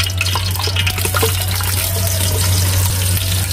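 Onions fry in hot coconut oil with a constant, close, crackling sizzle that holds at an even loudness over a low electrical hum.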